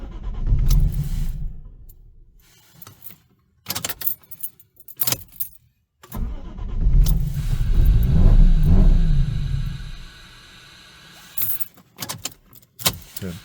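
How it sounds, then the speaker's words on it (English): A Lexus IS200 suspected of fuel delivery trouble cranks in repeated bursts without firing, each attempt a low rumbling churn broken by short pauses, with a jingle of keys near the start. "I was trying to start the car up for work and it actually did not start"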